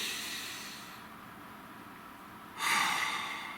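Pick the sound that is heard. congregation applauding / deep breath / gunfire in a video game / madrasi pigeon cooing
deep breath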